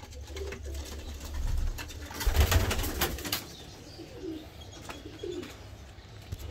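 Pigeons coo softly in low, throaty bursts against a rustling background, with a few sharper noises and bird sounds scattered throughout.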